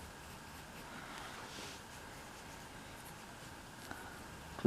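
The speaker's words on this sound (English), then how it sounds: "I'll erase a bit there." Pencil eraser rubbing on paper while drawing a Tyrannosaurus rex, a soft continuous scratchy friction heard close and steady throughout, with no talking.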